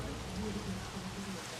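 Steady rain falling in the video game Jurassic World Evolution, a dense even hiss of drops that holds at one level throughout, with a faint low murmur beneath it.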